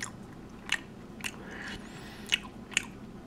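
Ahlgrens bilar, a Swedish foam-and-gummy car-shaped candy, is chewed close up: a handful of soft, squishy bites and crunches spread over a few seconds against a quiet background, with no talk.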